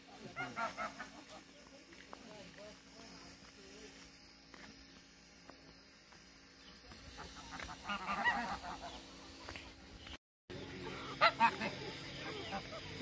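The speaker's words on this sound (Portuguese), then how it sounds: "os gansos estão todos gritando atrás de comida" Flock of geese on a farm honking and calling for food, repeated harsh honks rising and falling near the listener, with a brief dropout before a louder burst of calls.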